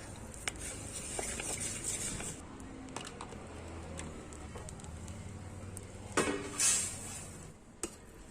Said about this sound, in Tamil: இதை வந்து ஒரு பிளேட்ல கொட்டி ஆற வச்சிடலாம்.